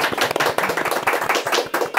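Hands clapping in quick, slightly uneven bursts, close and fairly loud, with no talking over it.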